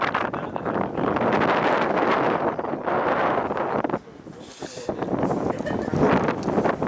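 Cold wind buffets the microphone outdoors beside train tracks, loud gusty rushing that drops briefly before surging back.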